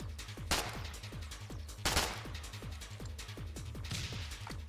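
Rapid gunfire rattles through a Foxhole war game, with repeated sharp shots in quick bursts and a few heavier blasts, loud and without speech over it.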